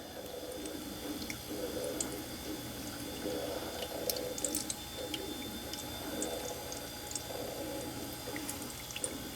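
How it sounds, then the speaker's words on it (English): Half and half is poured slowly into a freeze dryer tray, giving a faint, soft trickling and gentle liquid splashing over a quiet steady background, with a few small drips and clinks. "And we very slowly pour it into our tray."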